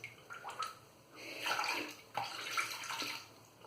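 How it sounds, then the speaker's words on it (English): Water from a tap splashing as a shaving soap tub with tallow formula is rinsed out, a close, continuous gushing with shifting splashes over a few seconds. "let's clean up the tub really quick"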